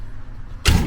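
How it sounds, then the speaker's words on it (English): An RV screen door on a Great Lakes trailer swings shut, triggering the automatic entry step to retract; a low rumble gives way to a sudden loud, broadband mechanical clunk and whir near the end of the second. "the step automatically goes in."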